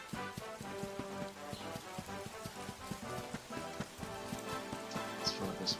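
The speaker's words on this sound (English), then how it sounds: "Raining." Rain falls in Dragon Quest XI, a faint continuous patter mixed under soft game music with a tonal melody.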